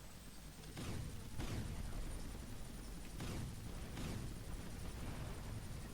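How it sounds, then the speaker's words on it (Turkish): Under a constant game-engine hum from Vice City, several muffled booms burst at intervals, like distant explosions, with no one talking. "Hemen patladı karşıdaki gördünüz mü?"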